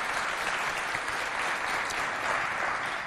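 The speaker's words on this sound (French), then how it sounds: "On les applaudit bien fort," Audience applause at a French-language school quiz competition between two high schools, a steady dense wash of clapping from a large crowd, alone and fairly loud throughout.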